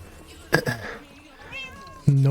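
A cat meows in the Minecraft video game, a few short game-sound calls set apart over a quiet stretch of background talk and game noise.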